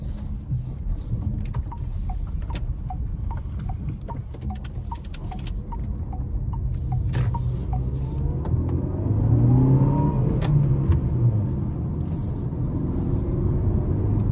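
A 2024 SsangYong Korando 1.5 turbo petrol car drives over a rough road, its steady engine rumble and road noise filling the cabin continuously, with small bumps and rattles and a slight swell in engine note partway through.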